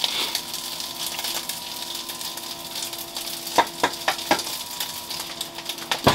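Fried rice sizzles steadily in a pan over high heat, a continuous frying hiss broken by a few sharp clinks and scrapes of a utensil against the metal toward the end.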